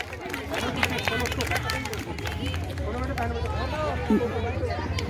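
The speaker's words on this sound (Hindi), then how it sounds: "ताली बजाएंगे बच्चे एक बार" Slum children at a Christmas celebration clap together in a dense, ongoing burst, with many young voices chattering and calling out over the clapping.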